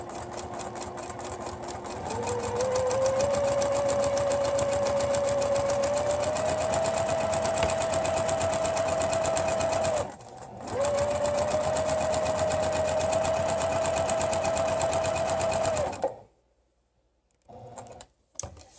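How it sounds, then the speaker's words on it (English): A sewing machine runs steadily with a fast, whirring stitch rhythm for long stretches, stitching quilt pinwheel blocks along dotted lines on paper with a shortened stitch length, pausing briefly once before stopping near the end. "Okay, we're back at the sewing machine, and we're going to go ahead and stitch on all dotted lines."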